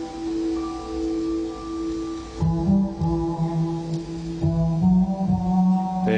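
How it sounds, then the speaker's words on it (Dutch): Disco track intro sampled from an old vinyl record: sustained harmonic tones give way to a steady, punchy beat with a bass line, loud and continuous with no voices. "Het is een soort introotje van een soort disco nummer."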